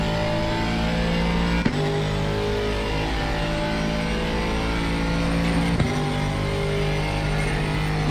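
Aston Martin Vantage GT3 race car in a racing video game at Misano, its engine droning steadily and loudly, broken by two sharp clicks from gear changes.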